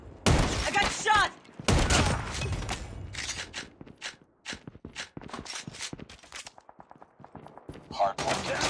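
Bursts of gunfire from the Call of Duty Mobile video game on a Crossfire multiplayer map come in sharp, loud clusters. Mechanical clicks and game effects fill the pauses, and a player talks between the shots.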